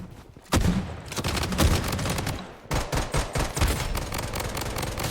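Rapid automatic QBZ rifle fire in the Blood Strike shooter game, dense bursts of loud close shots after a brief quiet start, pausing once near the middle and then resuming in choppy volleys.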